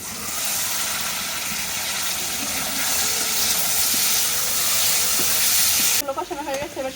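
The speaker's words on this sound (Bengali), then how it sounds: "মশলাটা কষানো হয়ে গেছে এবার ডাটাগুলো কষিয়ে নেবো" Vegetable stalks frying in cooked-down turmeric, chili and coriander spice paste over a village kitchen fire, a steady close sizzle with scraping stirs, giving way near the end to a voice over the crackle.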